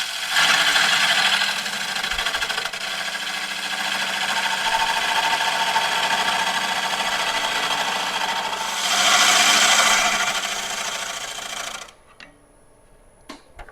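A 5/8 inch Irish grind gouge cuts into a dry burl wood bowl on the lathe, a loud, continuous scraping hiss that swells and fades, then stops abruptly near the end.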